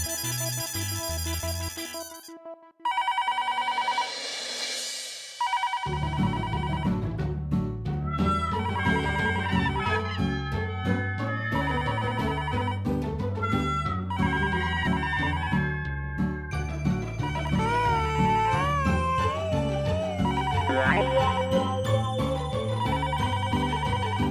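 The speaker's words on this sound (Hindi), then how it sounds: "साढ़े 12 बज रहे हैं, इतनी रात को कौन फोन कर रहा है?" A landline telephone rings late at night, its electronic ringtone repeating in bursts, mixed with a musical sting and busy tonal sound effects, loud and close with no talking.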